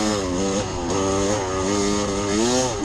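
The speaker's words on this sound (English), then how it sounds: "I twist that throttle. I listen to that FMF pipe sing" A dirt bike with an FMF exhaust pipe is revved hard during a hare scramble race, and its loud, raspy engine note rises and falls through several throttle pulls, close and continuous with no talking.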